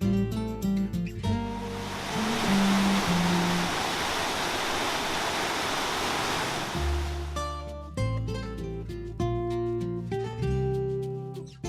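Chapel Falls, a 60-foot waterfall on a river in Pictured Rocks National Lakeshore, pours as a loud steady rushing wash, framed by music before and after.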